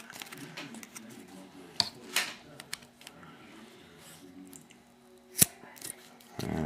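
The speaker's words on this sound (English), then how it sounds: "Just put your scissors against it to make it flush." Sharp scissors snipping the ends of a paracord survival bracelet flush, giving a few sharp, isolated clicks spaced apart over quiet handling noise, one especially crisp snip near the end.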